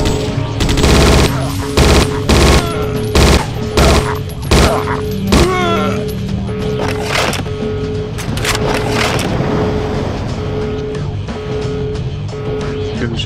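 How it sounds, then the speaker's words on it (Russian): Bursts of rapid gunfire crackle in short volleys in the video game Judge Dredd: Dredd vs Death, then a longer stretch of sustained shooting and rumbling, loud and close, with no one talking. "По-моему, пушка какая-то."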